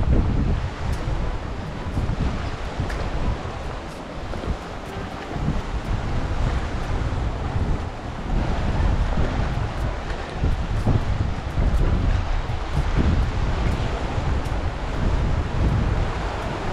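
Steady, loud wind buffeting the microphone alongside the constant wash of surf breaking nearby, with no voices throughout.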